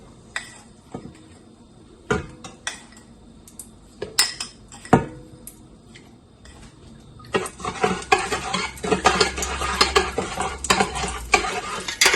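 A spoon clinks against a container a few times, then turns into rapid continuous stirring and scraping as salt is dissolved into brine for pickled tomatoes, close by, with no talking.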